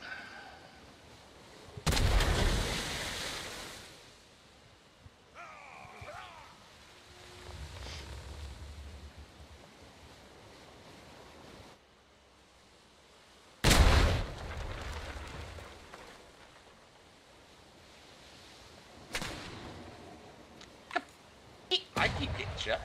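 Booming cannon blasts in a naval video game battle, several heavy shots spread irregularly across a long stretch, with a sharp cluster near the end, under intermittent talk from players.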